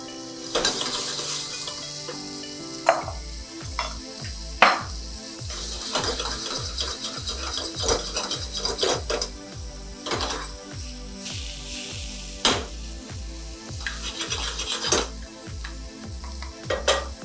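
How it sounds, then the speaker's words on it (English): Boiled carrots, beans and mushrooms sauté in melted butter in a pan for vegetable korma: a steady sizzle under rhythmic spoon strokes that scrape and clack at a regular pace, close and fairly loud throughout. "Just saute for a while because vegetables should warm up"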